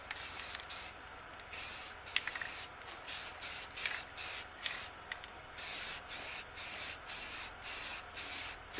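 A spray can lays a final coat of paint on a barn-find car in bursts of hissing spray, first a few longer passes, then a quick regular run of short sprays with brief gaps; no one talks.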